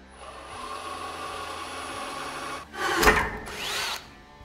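A power drill whines steadily for a couple of seconds, then bites in with two short, louder bursts of drilling close by, boring pilot holes in a vehicle bumper.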